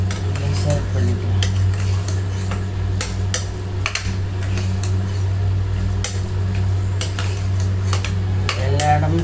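A spoon stirring a sugar, coconut, cardamom and ghee mixture in a pot, repeated scraping and clinking strokes against the metal at an irregular pace over a steady low hum.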